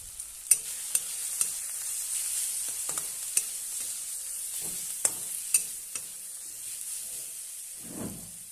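Tomato, turmeric and red chilli masala sautéing in a pan with a splash of water for an egg-potato kofta curry: continuous hissing sizzle punctuated by sharp spatula clicks every second or so, close and fairly loud.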